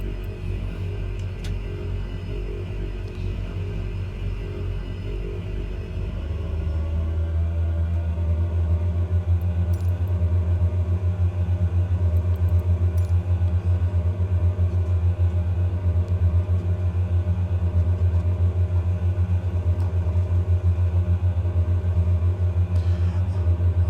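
A simulated Embraer 110 twin turboprop in Microsoft Flight Simulator 2020 rolls down the runway for takeoff, its engine rumble swelling after several seconds into a loud, steady low drone that holds to the end.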